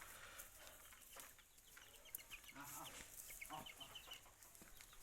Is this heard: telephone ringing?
no